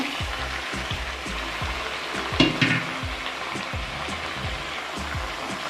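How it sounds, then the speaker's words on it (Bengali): Young jackfruit sautéing in a spiced potato and tomato masala, with no onion or garlic, crackles in a continuous close sizzle marked by regular scraping strokes of a spatula and a brief louder clatter midway. "এবার আমি এঁচড়গুলো দিয়ে দেবো এঁচড়টা দিয়ে কষাবো বন্ধুরা"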